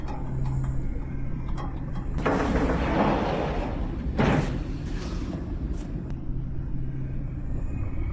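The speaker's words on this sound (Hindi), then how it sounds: "दरवाजा बंद करो।" A door being shut in a school building: a rushing, scraping swing followed by a single solid thud partway through, heard over a low continuous rumbling hum with no speech.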